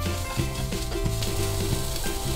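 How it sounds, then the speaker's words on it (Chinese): Garlic and bell peppers are stir-fried in a wok on low heat, giving a steady close sizzle under clanging, rhythmic stirring with a ladle, with no one speaking. "而家转细火，要快手兜炒，大概30秒到啦。"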